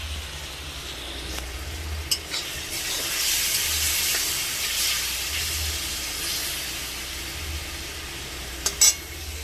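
Mango curry reheating in a pot on the stove gives off a steady, soft sizzle and steamy hiss, with a few brief clinks of stirring.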